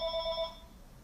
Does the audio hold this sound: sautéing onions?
no